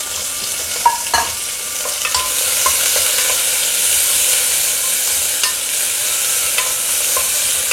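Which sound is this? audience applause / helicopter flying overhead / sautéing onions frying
sautéing onions frying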